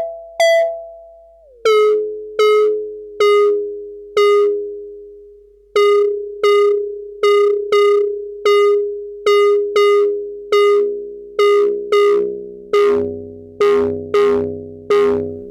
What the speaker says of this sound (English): This tonal synthesis model is an harmonic oscillator and is produced by an additive mixture of harmonically related sine waves.